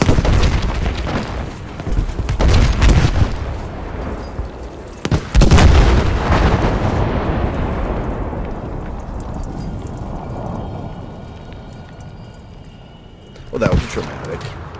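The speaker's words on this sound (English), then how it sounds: "Why is this still exploding?" Explosions and gunfire from the Battlefield V campaign: heavy booms and blasts in bursts, a long rumbling decay, then another loud hit near the end.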